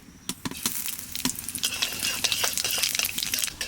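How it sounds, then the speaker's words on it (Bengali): Black cumin seeds sizzle and crackle in hot oil while a mustard hilsa curry is being made, with a steady frying hiss broken by sharp pops and a few light clinks of a utensil against the pan. "তেলের মধ্যে দিয়ে দেবো কয়টা কালো জিরে"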